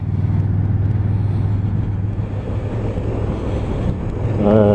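Low, steady engine drone from a 2018 KTM 1290 Super Duke R motorcycle at 2000 rpm in third gear, heard under constant wind rush, with a brief rise near the end.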